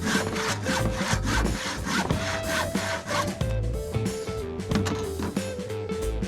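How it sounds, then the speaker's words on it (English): A handsaw cuts vertically through a wooden rafter with steady back-and-forth strokes, close and loud, the rasping rhythm continuing alone without talk. "this one is going to be cut vertically right there because I am having no overhang on my rafter"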